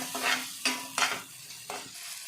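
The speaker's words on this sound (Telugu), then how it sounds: "ఇందులో పచ్చివాసన పోయి ఆయిల్ బయటకు వచ్చే వరకు మనం ఇలాగా ఫ్రై చేసుకుంటూ ఉండాలి" Mutton keema masala frying in oil in a pan, with four distinct scraping stir strokes over a soft, steady sizzle, close and fairly loud, with no talking.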